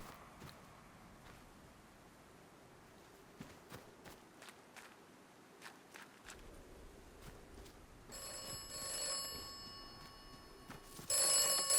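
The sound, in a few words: telephone ringing in the video game Atomfall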